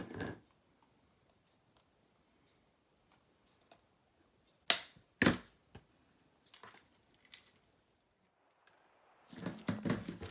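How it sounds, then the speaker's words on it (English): Several sharp snips of scissors cutting through material, two loud close cuts in the middle with softer clicks and rustling around them. "slice that off with my scissors"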